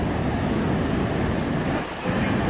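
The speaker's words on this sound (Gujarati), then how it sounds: "અહીંયા સુધી મોજો આવે છે. જો પગ સુધી જો મેડમના પગ સુધી મોજો આવી ગયો" Sea waves wash up a beach in a dense, loud rushing roar of surf mixed with wind buffeting, steady throughout with only a slight lull near the end and no voices.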